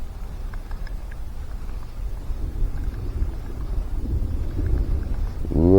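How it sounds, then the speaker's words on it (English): Low rumbling thunder rolls continuously through a rainy outdoor scene at a bass fishing pond bank, a steady deep murmur that swells slightly toward the end, with no voices. "Ooh, I hear that thunder."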